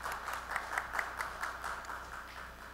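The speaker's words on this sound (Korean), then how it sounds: "우리 박수로 환영하겠습니다" Faint, rhythmic clapping from a church congregation welcoming someone, a quick regular beat of claps heard at a distance that gradually softens.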